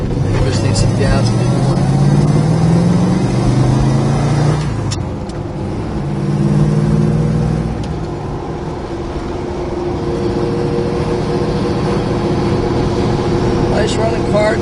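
A 1969 Plymouth Road Runner engine runs steadily while driving, a loud continuous rumble with shifting tones as the car accelerates and eases off.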